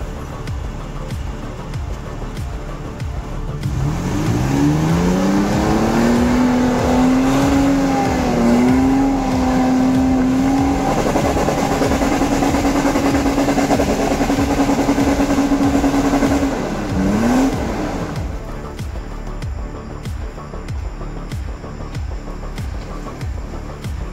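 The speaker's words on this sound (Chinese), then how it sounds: "听这个声音，这个油门应该是到底了。" A Toyota FJ engine at full throttle climbs to a high, steady, strained whine and holds near the top for several seconds before dropping off, over background road noise, on a slippery mountain climb.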